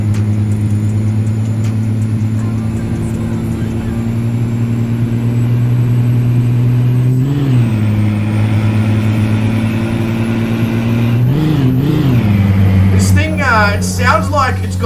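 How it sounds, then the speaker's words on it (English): Truck engine in American Truck Simulator running steadily with a strong low drone, dipping and rising in pitch around seven and twelve seconds as gears change quickly like a DSG gearbox, with someone talking over it throughout. "It sounds like it's got a DSG gearbox in it"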